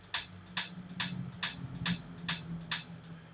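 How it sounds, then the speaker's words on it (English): A crisp, closed hi-hat ticks in a steady, slightly shuffled pattern, each short hit ringing briefly over a soft low hum. "these are our closed hi-hats"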